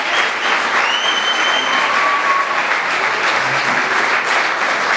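Dense, continuous audience applause fills a live music performance, steady and loud from start to finish, with a few faint whistles rising above the clapping.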